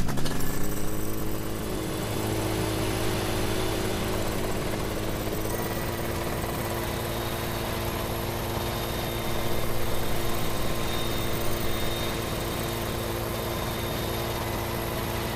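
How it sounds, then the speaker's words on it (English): A helicopter in Farming Simulator 17 drones steadily throughout, its rotor and engine hum loud and continuous with a slight swell partway through, no voices present. "Where's my helicopter? I want to see what it looks like."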